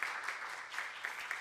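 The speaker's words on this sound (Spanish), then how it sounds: "Denle un fuerte aplauso" Audience applause at a medical congress session on cerebral palsy pain management, a steady wash of many hands clapping at moderate, even level for the whole short stretch, with no voices over it.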